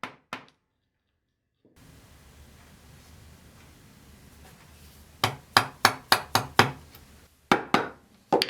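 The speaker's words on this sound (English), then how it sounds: "I'll remove as much of the material as I can from in front of the scribe line before setting my chisel into the line and chopping" Sharp mallet strikes on a chisel chopping out waste between hand-cut dovetail tails in a drawer part, a steady series of loud, close knocks after a quiet stretch of bench noise, with a few more blows near the end.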